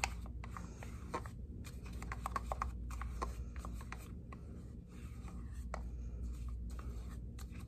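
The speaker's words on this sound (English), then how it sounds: "just keep mixing and you'll know the difference between the developer and the color" Hair color being mixed with developer in a bowl, a continuous close scraping and rubbing of the brush against the bowl sides, soft and steady.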